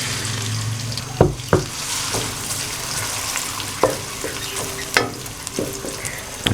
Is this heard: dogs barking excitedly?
no